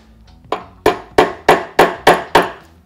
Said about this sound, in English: Give it a few small taps.